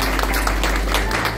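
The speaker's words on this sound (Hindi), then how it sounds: "ताली बजाइए सर के लिए।" An audience applauds for a guest at a live Hindi motivational talk on positive thinking, a steady wash of clapping that holds evenly across the short moment.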